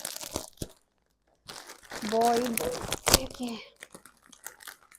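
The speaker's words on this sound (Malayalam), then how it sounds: "സോ നെക്സ്റ്റ് നമുക്ക് ഒരു ബോയിൻ്റെ അൺബോക്സ് ചെയ്യാം." Plastic packaging crinkles and tears close up while unboxing a kids' clothing haul set, bursts of crumpling between stretches of talk.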